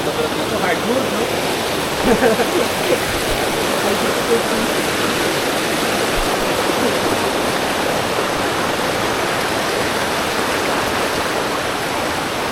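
Steady, loud rush of a waterfall near Baler, Philippines, a dense unbroken roar of water filling the whole scene, with faint voices now and then underneath.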